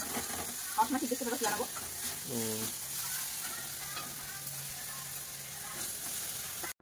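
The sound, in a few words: fish and vegetables frying in a pan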